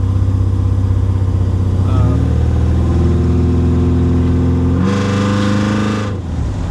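Classic car engine, either a 1951 Ford Custom or 1956 Chevy Bel Air, exhaling through MagnaFlow mufflers: a deep steady idle that rises in pitch with a couple of revs, close and loud.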